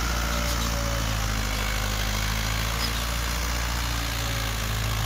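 A Mahindra 575 DI XP Plus tractor engine runs in second gear high range, a steady low diesel drone close by with no pauses and no voices.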